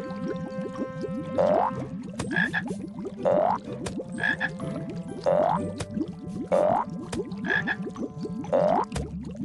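Frogs croak in a repeated series of about seven distinct calls at a steady pulse, with a bed of smaller chirping calls underneath, and no voices.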